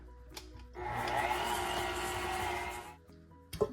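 An electric mixer whizzes steadily as it creams butter and sugar for a caramel apple cake batter, a continuous motor whir running about two seconds after a soft start, then cutting off with a brief clatter.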